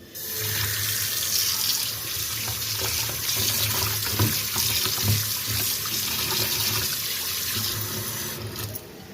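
Water runs steadily from a tap into a bowl as fish is washed for a North Indian fish curry, a continuous splashing rush with small clinks and knocks from handling, close and alone without speech.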